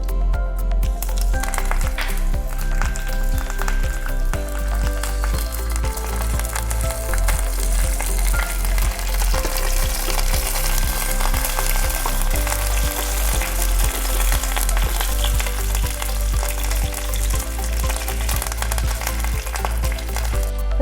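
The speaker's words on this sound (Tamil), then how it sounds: "கடுகு வெடிக்க ஆரம்பிச்சிருச்சு. இப்போது காஞ்ச மிளகாவும் கருவேப்பிலையும் போட்டுருங்க." Mustard seeds, dried red chilies and curry leaves sizzle and crackle in hot oil for a Kerala-style pineapple pachadi tempering, a dense continuous frying hiss over a steady musical background.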